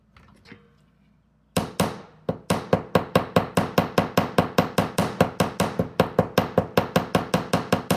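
After a quiet start, a hammer strikes jewellery wire on a hard block in a fast, steady series of sharp, ringing blows, close by.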